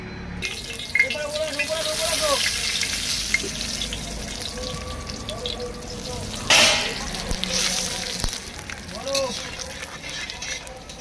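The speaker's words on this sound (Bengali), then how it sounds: "তেল আমাদের গরম হয়ে গেছে আমরা দিয়ে দেবো জিরে তেজপাতা গরম মশলা আর লাল শুকনো লঙ্কা একসঙ্গে সব দিয়ে দেবো" Cumin, bay leaves, garam masala and dry red chilies sizzling in hot oil, a continuous crackling hiss with occasional clatter running beneath a person talking.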